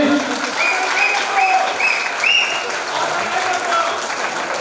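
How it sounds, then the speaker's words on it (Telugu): An audience at a local gathering of employee union leaders claps together, a steady, dense round of applause lasting the whole stretch, with a few faint voices and whistle-like tones mixed into the crowd noise. "ముఖ్యంగా ఇద్దరు చప్పట్లు కొట్టమని చెప్పారు"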